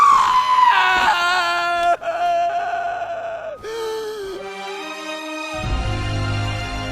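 A voice actor playing Armin in an anime lets out a long, anguished scream, drawn-out and strained with breaks and wavering pitch, loud and close, over about seven seconds.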